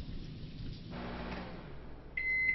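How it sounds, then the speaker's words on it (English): A single electronic beep rings out clearly near the end, a steady tone rising over a low background rumble like rain. "A beep."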